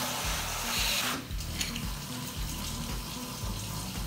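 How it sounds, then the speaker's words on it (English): Tap water pours into a plastic Ziploc bag to fill it halfway, a steady close rushing splash that dips briefly after the first second, then runs on continuously with no talking. "fill the Ziploc bag up with water"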